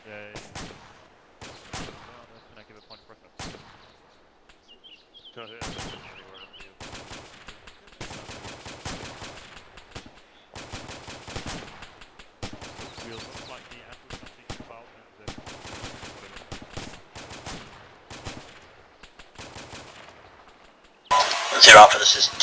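Rounds of gunfire crack out in repeated bursts and single shots, some sharp and near, others quicker automatic strings, spread irregularly over a quiet background, with a louder noisy burst at the end.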